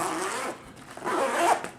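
A stiff, sticking clothing zipper is pulled through in two quick, close rasping strokes, heard on its own with no talk.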